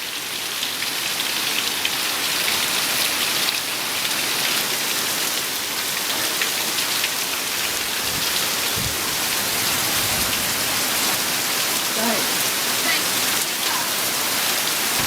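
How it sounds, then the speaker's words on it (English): Heavy rain pours down outside in a dense, steady hiss of drops striking surfaces, loud and continuous throughout, with a faint low rumble near the end. "It is raining cats and dogs out here."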